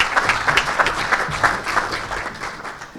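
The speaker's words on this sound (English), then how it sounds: "we all need to give him a big round of applause" Audience applause at a professional conference after a presentation, many hands clapping in a lively, slightly uneven patter that holds steady and then begins to thin toward the end.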